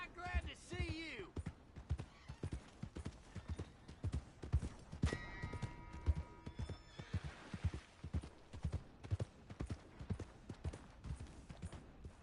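Horse hooves clip-clopping steadily in the Red Dead Redemption 2 video game, a loud, regular rhythm running the whole time, with a horse whinnying early on and voices talking over the hoofbeats.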